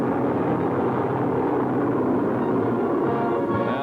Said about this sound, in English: Aerial salute for the graduating class from a squadron of fast P-38s.